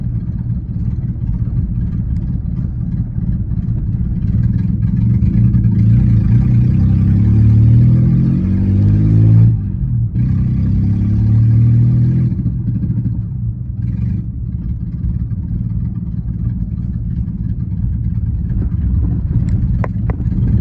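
A Geo Metro engine drives along and revs through its gears, a steady close mid-pitched drone that swells and eases with acceleration, with one brief dip partway through and road rumble beneath.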